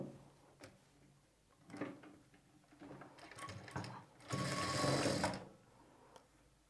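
A sewing machine stitches a blouse shoulder seam, with short bursts of whirring needle runs and clicks building to a longer, louder run near the end, close up and without talk.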